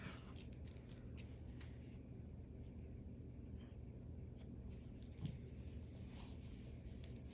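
Scissors cut through crochet yarn: a single faint, quiet snip sounds over a low, steady background hum.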